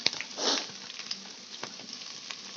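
Chopped cabbage, onion and green chili go into a hot pan for a cabbage egg thoran, giving a soft, steady sizzle with a brief louder hiss at first and scattered light crackles.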